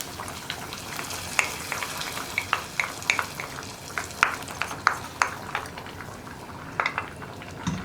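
Fried onions for tempering hit a pot of sambar while the flame stays on, throwing up a close, steady sizzle broken by sharp crackling pops through the whole stretch, with no talking.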